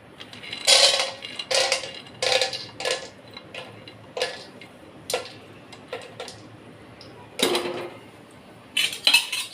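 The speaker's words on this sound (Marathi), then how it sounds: "पहिले शेंगदाणे टाकू." Peanuts are tipped into a pan for poha and stirred with a metal spoon. There is a run of sharp, close scraping clinks and rattles in uneven bursts, with quiet gaps between, and no talking.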